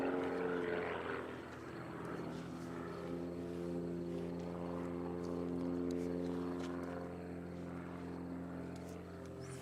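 An aerobatic propeller airplane flies a hammerhead at a national aerobatics contest, its engine a steady harmonic drone throughout, swelling and easing slightly as the aircraft climbs and pivots, moderately distant and with no voices.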